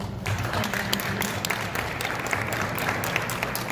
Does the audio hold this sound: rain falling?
no